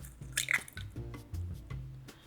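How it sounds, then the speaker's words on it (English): Three large eggs cracked one after another into a mixing bowl for chocolate banana bread, giving close, wet drips and soft squishy splats in a short uneven run with no talking. "so we'll do our 3 large eggs. We'll do egg 1, egg 2, and egg 3"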